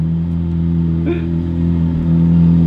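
A car with its exhaust valves closed and new wheels loafs past slowly. Its quiet engine gives a steady, fairly loud low drone that swells slightly toward the end, with a brief faint noise near the middle.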